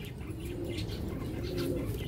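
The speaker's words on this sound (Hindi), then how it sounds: "कराची की जान लाल कबूतर" Red pigeons cooing in a steady low murmur with soft wing flaps and faint chirps, close and continuous, no voices.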